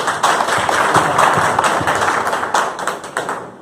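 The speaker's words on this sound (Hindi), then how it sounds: "इनके लिए जोरदार ताली।" An audience at a business meeting breaks into enthusiastic clapping, a dense burst of many hands close by that swells briefly and then thins out over a few seconds.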